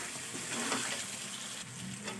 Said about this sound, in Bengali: আলুটা মশলার সঙ্গে আরেকটু ভালো করে আমি কষে নেব।